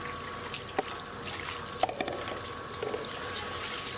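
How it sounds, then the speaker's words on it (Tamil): Water is poured lightly over fish to rinse off blood, a soft continuous trickle and splash with a few small clinks, faint and steady with no talking. "இப்போது லேசாக தண்ணி ஊற்றி அந்த ரத்தத்தை மட்டும் கழுவி எடுத்துக்கலாம்."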